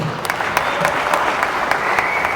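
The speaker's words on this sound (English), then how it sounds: "Big round of applause once again." Applause from the audience at a masters-category bodybuilding contest: a dense, loud wash of clapping for a couple of seconds, with no speech over it.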